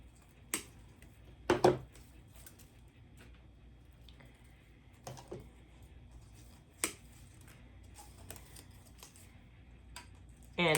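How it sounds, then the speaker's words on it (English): Scissors cutting paper craft pieces for a floral Easter carrot wreath: a handful of sparse, quiet snips spaced out over a near-silent room. "So just gonna cut them out."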